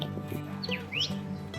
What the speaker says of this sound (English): A bird more often heard than seen is the Australian Reed Warbler.